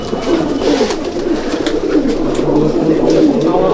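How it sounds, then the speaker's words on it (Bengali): Female pigeons, including white Chapka and Tiger hens of a Madrasi breed, coo together in a loft, a loud, continuous overlapping burble with wing flutters close by. "সমস্ত মাদি পায়রা"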